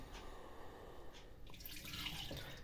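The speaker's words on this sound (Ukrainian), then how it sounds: "Зливаємо воду," Boiling water is drained from a pot of potatoes, pouring and splashing steadily into a sink, faint and continuous, with a brighter gush toward the end.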